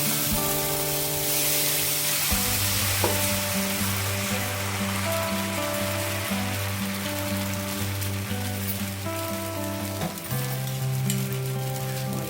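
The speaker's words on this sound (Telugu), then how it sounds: "ప్యాన్ హీట్ ఎక్కింది. ఇప్పుడు దోశ వేసేద్దామండి." Dosa batter sizzling on a hot, lightly oiled pan, a loud steady hiss and crackle throughout with a low hum underneath, no talk.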